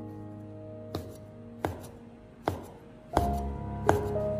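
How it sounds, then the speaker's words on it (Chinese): A kitchen knife slices cleaned shiitake mushrooms into thin slices for a beer-braised fish dish, giving five sharp, evenly spaced knocks on the cutting board over a faint, steady background hum. "清洗干净之后再将它切成薄片"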